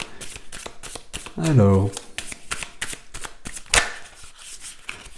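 Tarot cards shuffled and flicked close by in quick rapid riffles, under someone speaking in French throughout, with a louder card snap partway through.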